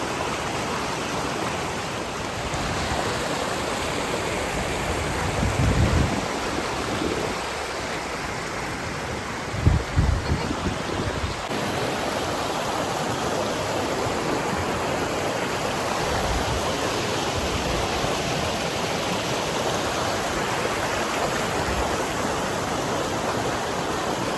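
Steady rush of ice-cold stream water flowing continuously, broadband and fairly loud throughout with a couple of brief low thumps, no voices.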